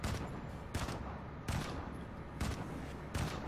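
Shotgun blasts in the mobile shooter Modern Combat 5: Blackout, played on an iPod Touch 5th gen: five sharp, loud gunshots at uneven intervals, each with a short ringing tail, and no talking.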